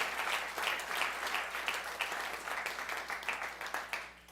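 Church congregation applauding, steady rhythmic clapping from many hands at moderate distance, fading toward the end.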